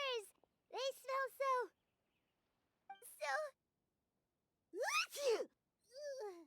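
A Genshin Impact character sneezing: several short, high, voiced bursts with quiet pauses between them, clean and close, sounding like sniffs and sneezes mixed with brief vocal sounds.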